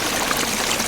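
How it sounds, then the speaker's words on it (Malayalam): Water runs through a small irrigation channel outdoors, a steady, close, even rushing and trickling with no voices. "നമ്മളിവിടെ വന്നപ്പോൾ ഈ അരിച്ചാലിൻ്റെ സൗണ്ട് ഉണ്ട്."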